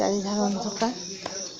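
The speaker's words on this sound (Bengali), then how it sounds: "অন্ধকার, সঙ্গতে ঝিঝির ডাক" Crickets chirping at night in the dark keep up a thin, steady high trill in the background while a voice narrates over them.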